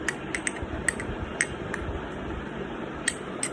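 Coconut oil and oats being mixed together for a face scrub, light clinking and tapping of a utensil against a bowl, sparse sharp ticks over a soft background hiss.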